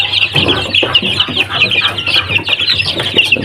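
A three-week-old joker breed chicken chick clucks and peeps continuously, close and fairly loud, with busy high chirps over faint handling noise.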